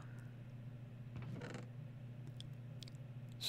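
A wooden door creaking open in Minecraft, a short creak near the middle over a quiet background hum, followed by a few faint clicks and a sharper sound at the very end.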